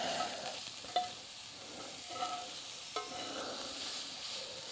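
Sausage frying in an iron skillet over a campfire, with a soft steady sizzle and a few faint clinks and scrapes of stirring. Quiet and close, no voices.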